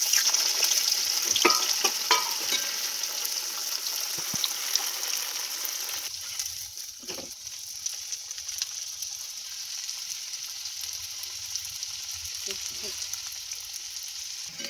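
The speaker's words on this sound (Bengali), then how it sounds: "একটা একটা করে আমি সবগুলো ভেজে নেবো" Leftover momos deep frying in hot oil in a home kitchen, a continuous bright sizzle with occasional crackles and a few utensil taps, loudest early then settling to a gentler hiss.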